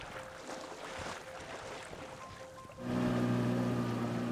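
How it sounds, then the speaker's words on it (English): Dinghy travelling west on Lake Superior: water swishing and wind at first, then a steady droning hum that takes over for the last seconds. "Traveling in a dinghy towards the west, number 10 light comes into view."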